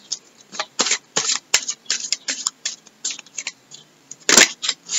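Tarot cards being shuffled in quick riffling bursts, a dense run of short papery snaps and slides, close and fairly loud, with one sharper flurry near the end.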